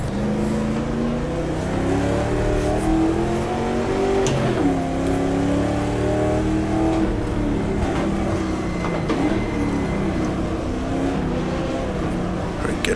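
In the GTR2 racing game, a 1966 Ferrari race car roars past during the Daytona 24 Hours, its loud engine note rising and falling in a dense, continuous drone mixed with other car engines on track.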